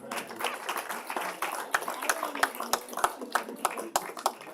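Applause at a public board meeting, scattered individual claps from a modest crowd, fairly faint and uneven, with some murmuring voices underneath.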